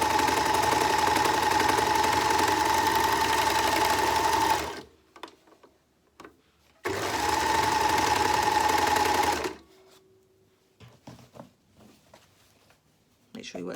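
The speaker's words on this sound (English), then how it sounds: "The machine overlocker, I'll show you in a minute, will just cut straight through it." An overlocker stitches and trims the raw edge of fabric for a reusable storage bag, running in two steady bursts of a few seconds each, with quiet handling and fabric rustle in the pauses between.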